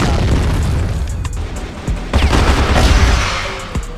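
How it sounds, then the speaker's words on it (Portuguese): A grenade explosion and gunfire in an online shooter video game, with a loud booming blast followed by rapid bursts of shots and sharp pops, close and dense over a few seconds. "Granada!"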